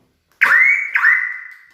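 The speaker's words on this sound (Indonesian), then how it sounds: "sirine juga berbunyi 2 kali, aktuatornya naik ke atas ya" Car alarm siren chirping twice in quick succession as the central locking unlocks the doors, loud and close, each chirp a sharp electronic tone with a short tail.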